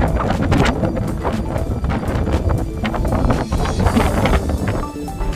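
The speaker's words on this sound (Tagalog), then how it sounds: "Lakas ng hangin ah." Strong wind by Sulby Lake buffets the microphone in loud, steady gusts, with rough low rumble and bursts of broadband noise throughout.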